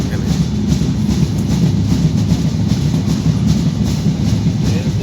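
Inside the crowded Jahanabad Express passenger train as it runs, a loud, steady rumble with faint rhythmic clatter of wheels continues throughout.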